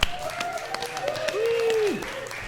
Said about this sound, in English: let's give our comedians another round of applause